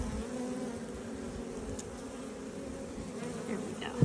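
Honey bees buzz around a hive in spring as foragers bring in pollen, a steady close drone of many insects, with a faint bump near the end.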